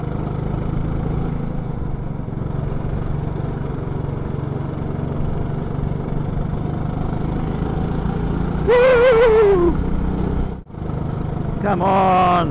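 Go-kart engine droning steadily on a track during a race, a continuous mid-pitched motor hum with a brief rising whine and a short dip near the end, heard up close from the kart.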